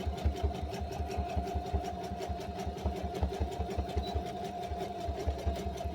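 A sewing machine stitching the handle of a tote bag made from old denim jeans, a steady rhythmic mechanical thumping and whir heard up close without talk.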